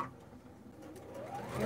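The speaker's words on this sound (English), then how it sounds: "mine makes the sewing machine that much louder" Sewing machine with a walking foot stitching a pillowcase with French seams, a steady fast mechanical whirr that builds slightly louder toward the end, with no voices.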